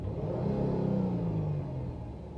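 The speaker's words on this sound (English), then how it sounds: "let me rev the RPM, see if anything changes" A car engine, being checked for a bad alternator, is revved up to raise RPM, a close rising rumbling roar that holds briefly and then eases back down.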